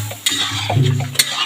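Chopped potatoes fry in a pan, a close sizzle broken by a few sharp scrapes and clinks of a spatula stirring against the metal, with no talk.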